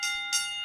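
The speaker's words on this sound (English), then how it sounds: "So let's ring the bell." A bell sound effect rings out with a bright, sustained metallic tone, swelling again briefly partway through, loud and alone without any talk.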